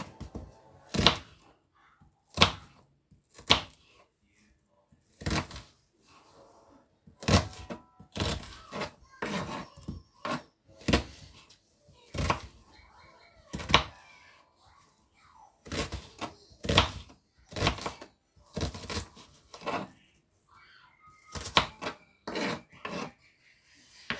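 A knife finely chops onion on a board while cooking cassava-leaf sauce with mutton tripe. Sharp, irregular chops land close by in quick bursts, separated by brief pauses, with no talking.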